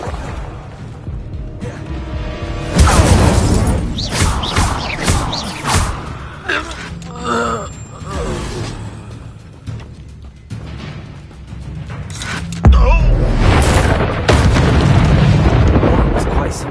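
In a Hogwarts video game, an Incendio fire spell goes off amid repeated booming explosions and whooshing blasts, loud and clustered in bursts, with in-game voices shouting between them.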